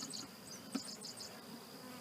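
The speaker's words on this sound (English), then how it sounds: "And then he's got bees here." Honey bees buzz faintly around a beehive, a thin high hum with scattered flickers of wings and one brief soft knock near the middle, distant and quiet with no voices.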